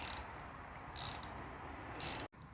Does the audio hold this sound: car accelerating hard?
no